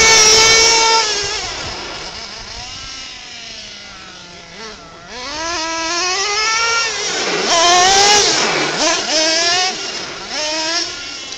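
A Losi LST XXL nitro RC truck's small glow engine, its clutch failing to disengage, revs up and down repeatedly in loud, wavering buzzy bursts that rise and dip throughout, with no speech.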